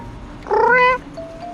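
A stray mother cat gives a single clear, drawn-out meow close by, with quiet background around it.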